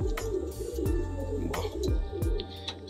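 Several Madrasi pigeons with yellow colouring coo close by in a loft, soft throaty calls sliding downward and repeating at steady intervals, layered over one another with no talk.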